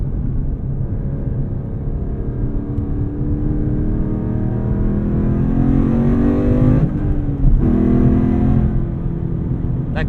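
A 2012 Mustang Boss 302 V8 engine rumbles loudly and climbs in pitch under acceleration, then breaks briefly at a gear shift and pulls again, heard from inside the car.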